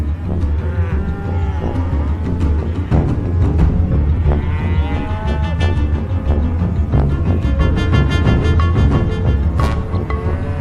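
Many cattle in a vast feedlot low and moo over and over, overlapping calls near and far forming a loud, continuous bellowing chorus with no talk.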